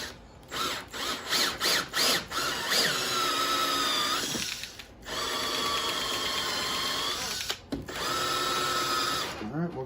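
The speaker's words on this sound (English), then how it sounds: "you're just going to drill out until the size of this. It's right around 3/4 of an inch." A power drill boring a hole of about 3/4 inch in the housing of a Predator 9500-watt inverter generator during a propane conversion, beginning with short stuttering bursts and then settling into long, loud, sustained whining runs separated by brief pauses.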